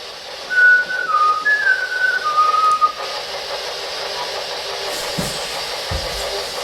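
A person whistles a short wavering tune of several notes during a paranormal investigation, fairly close, over a steady background hiss, followed by a couple of faint knocks.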